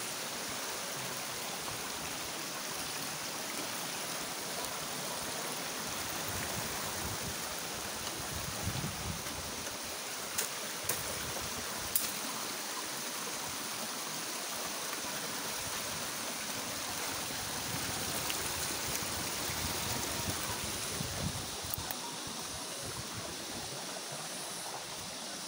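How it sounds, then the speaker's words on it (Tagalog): A stream flows over rocks in a Philippine rural property in General Nakar, Quezon, giving a constant, steady rushing and babbling wash throughout, with no talking. "Buhay na buhay ang sapa."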